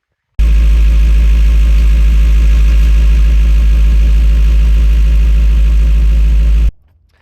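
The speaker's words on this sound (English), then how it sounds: "Got the compressor hooked up, so just start it up and start putting some air in the tires." An air compressor runs to inflate vehicle tires at the start of seeding season, a loud, steady, even hum that kicks on abruptly, holds for about six seconds, then shuts off and winds down.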